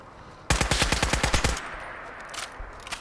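A Magwell rifle in Fallout 4 fires one short, loud automatic burst of about a dozen rapid shots, followed by faint mechanical clatter and quiet tail-off.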